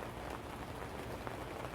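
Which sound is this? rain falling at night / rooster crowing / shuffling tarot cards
rain falling at night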